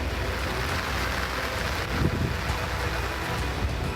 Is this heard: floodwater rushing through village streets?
yes